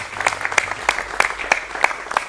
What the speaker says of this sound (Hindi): एक बार जोरदार तालियों से स्वागत हो जाए